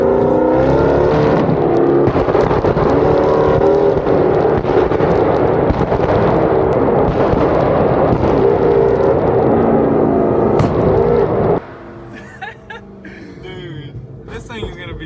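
A 1000HP Baja Jeep Trackhawk revs hard and roars through a spin, loud, sustained engine noise with sharp cracks and pops, then a sudden drop to quieter idle and background voices near the end.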